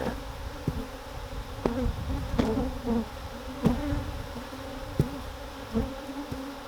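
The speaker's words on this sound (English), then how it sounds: "Look at the bees in the air." Honey bees buzz steadily in the air around backyard hives, a continuous low drone from many insects, with occasional closer individual bees passing by louder for a moment.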